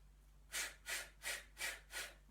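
Five short, even, forceful breaths during a home Pilates workout, sharp sniffs and blows in a steady rhythm, close and quiet.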